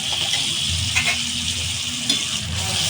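Onion paste sizzles in a pan while being stirred, a continuous close frying hiss broken by a couple of soft scraping knocks from the utensil.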